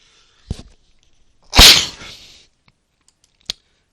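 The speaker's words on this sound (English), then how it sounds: "excuse me, I'm going to sneeze." A single loud close sneeze, preceded by a short sharp intake and followed by a small click, with quiet before and after.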